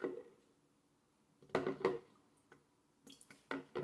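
A metal spoon scooping breadcrumb debris out of a bowl of water: soft watery splashes and clinks against the bowl in a few scattered bursts, close and quiet, with silent stretches between.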